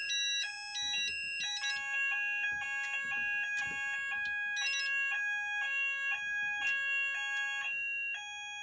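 Several Haes Vector addressable fire alarm sounders go off together on evacuate, loud stepped electronic tones that overlap out of sync in a repeating warbling pattern, with faint clicks underneath.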